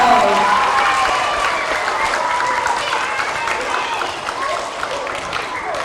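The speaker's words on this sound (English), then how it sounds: "Let's give them one more round of applause." Applause from an audience at an elementary school character education assembly, steady and sustained clapping throughout with crowd voices and talk mixed in.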